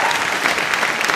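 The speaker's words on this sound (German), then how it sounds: "Applaus!" Lively crowd applause at a winners' ceremony during a game-show evening, a continuous close clatter of many hands filling the whole moment.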